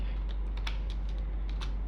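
Close, quick keystrokes on a computer keyboard type a ping command, a short burst of light clicks over a low background hum.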